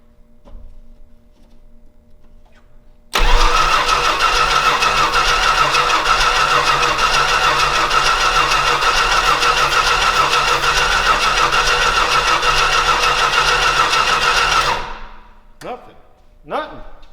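An aircraft tug's engine cranks and catches, then runs loud and steady for about eleven seconds before shutting off, followed by a few sharp clanks.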